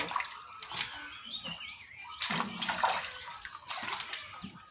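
Picked papayas being washed by hand in a tub of water, with water sloshing and splashing in uneven bursts close by, louder surges near the middle and end.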